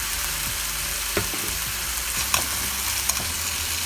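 Ghee hits a ginger, garlic and green chili paste for Bengali egg curry, raising a continuous close sizzle with a few sharp spoon knocks against the pan and no speech.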